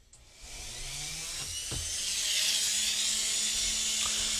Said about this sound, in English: I'm just going to take my Dremel here,